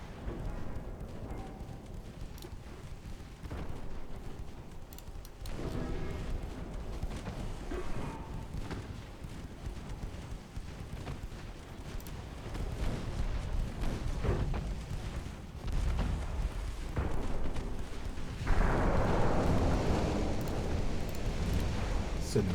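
Naval secondary guns firing high-explosive shells in a WWII-era naval strategy game, a steady rumble of booming shots and distant impacts, with a louder burst of fire near the end.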